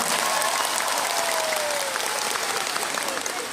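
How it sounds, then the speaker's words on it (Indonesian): Audience in an Indonesian religious lecture hall applauds steadily and loudly for several seconds, a dense wash of many hands with a faint tone gliding underneath. "Tepuk tangan dulu buat semuanya."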